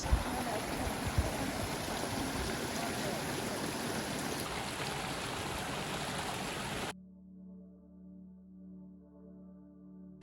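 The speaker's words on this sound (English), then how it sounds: "You just hear the roar of the water down there as it comes under aqueduct 38." Water roars beneath aqueduct 38 on the Lancaster Canal as a narrowboat cruises over, a loud steady rush that cuts off abruptly after about seven seconds, leaving a low engine hum.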